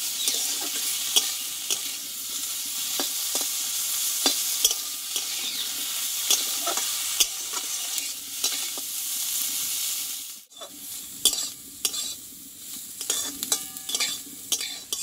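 Pumpkin vine sautéing in a wok, a continuous hiss of frying with repeated scraping strokes of the spatula, loud and close, the sizzle briefly dropping before the stirring resumes.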